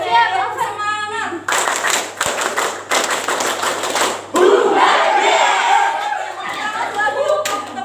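Students in a microteaching class perform a louder tepuk semangat, a spirit clap of rhythmic hand-clap bursts and group shouts, energetic and close, ending in a crowd cheer with talk around it.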